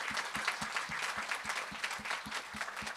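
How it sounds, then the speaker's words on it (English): Conference audience applause, a moderate crowd clapping steadily at a distance with a few distinct rhythmic claps standing out over the wash of hands, no talk. "Huge round of applause for Sonia, Brad,"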